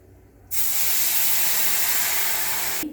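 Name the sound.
water poured into hot spice tempering, hissing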